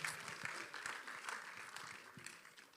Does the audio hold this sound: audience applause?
yes